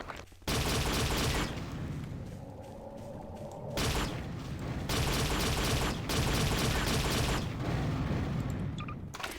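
Sustained, loud synthetic bio rifle fire in Garry's Mod in several long bursts with brief gaps, a dense sputtering mechanical blast continuing nearly throughout.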